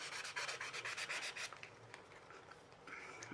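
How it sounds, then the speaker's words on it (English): A resin piece, cast from ResinCrete, is hand sanded along its edge with quick, rhythmic rubbing strokes, close and fairly quiet. The strokes are strongest at first and then grow lighter and sparser. "see how I'm sanding right on the edge"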